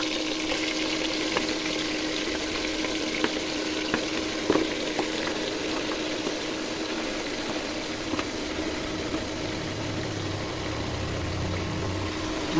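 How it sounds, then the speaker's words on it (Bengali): Beef pieces frying in a pan with browned fried onions for beef bhuna, a continuous even sizzle with faint scattered stirring clicks. "2 মিনিটের মতো মাংসগুলো ভেজে নিব বেরেস্তার মধ্যে।"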